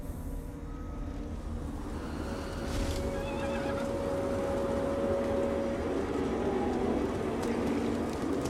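A horse neighs in Total War Warhammer 2, a brief whinny under a steady wash of battlefield ambience and a low droning game soundscape.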